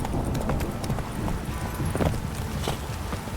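Roach, a horse in The Witcher 3, gallops in a rain-soaked game world, a steady run of hoofbeats over a constant wash of rainfall and ambient noise.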